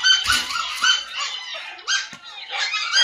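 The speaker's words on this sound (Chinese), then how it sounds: "然后我跟大宝赶紧喂喂小狗狗，快喂喂富贵，喂喂富贵，" Stray dogs bark and yip excitedly at night while being fed, a run of close, loud barks in quick bursts that keep going with only brief gaps.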